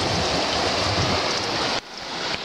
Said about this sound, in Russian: Да, вот такой вот гейзер